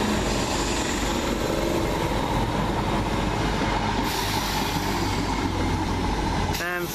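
A Class 313 electric train on the 16:45 service to Gordon Hill, heard at Alexandra Palace station as a steady, loud rumble of passing carriages, with a brief wheel squeal near the end.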